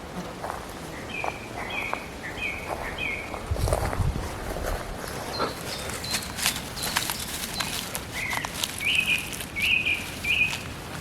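Faint bird chirps and trills come and go in a forest over rustling and footstep-like patter, with a short run of high calls near the end.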